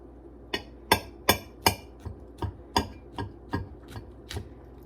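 A knife chops down through a lettuce-heavy sandwich in about a dozen sharp, crisp knocks against a board in a steady, fairly quick rhythm, each a close, clear tap with a short crunch.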